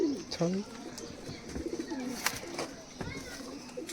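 Pigeons in a loft coo in repeated low, throaty bursts, close by, with fluttering and small rustles between the calls.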